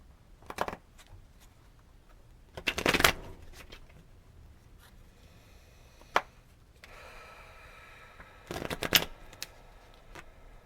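A Cosmic Tarot deck is shuffled in several separate bursts of riffling and card flapping, close and crisp, with quiet pauses between them and no talk.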